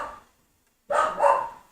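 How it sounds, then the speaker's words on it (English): A pet dog barks indoors. A short sound at the start is followed after a pause by a couple of close, sharp barks that fade out, with no speech. "That's my dog."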